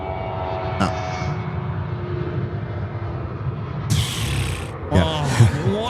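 Jet airliner taking off at night at Sydney Airport, a steady broad engine roar holding throughout at moderate distance, with brief bursts of nearby chatter and other noises layered over it toward the end.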